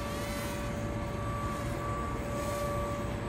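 Sharper Image DX-2 stunt drone flying at night, its small propellers giving a continuous high buzzing whine with steady tonal hum, constant and moderately close without speech.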